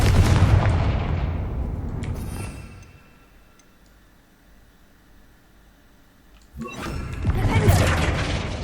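A fiery Confringo spell blast from Hogwarts Legacy erupts loudly with a roaring burst that fades into a quiet lull, then a second explosive burst crashes back in near the end.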